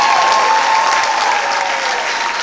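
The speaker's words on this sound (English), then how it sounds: "How about one more round of applause, everybody" Loud, dense audience applause for an orchestra at a concert, close and continuous for the whole stretch, with a faint sustained tone beneath it.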